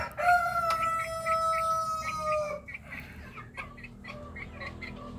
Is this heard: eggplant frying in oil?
no